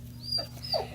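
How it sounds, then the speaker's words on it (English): A dog gives two short, high, nasal whimpers, close by and moderately loud, over a faint steady indoor hum. "Sorry about my dog."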